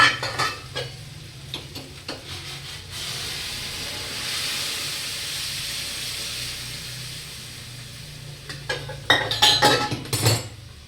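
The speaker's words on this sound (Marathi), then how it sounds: "मसाला घातल्यानंतर गरम पाणी सोडायचं." Hot water pours into a pan of spice masala with a sustained hiss and sizzle, followed by a few sharp clinks of utensils against cookware.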